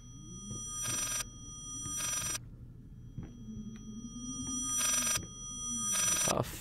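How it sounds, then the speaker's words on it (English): A telephone rings in the horror video game Layers of Fear, its bell bursts repeating in a slow, steady rhythm over a low ambient hum, clear and fairly close with no talking. "Is that a phone?"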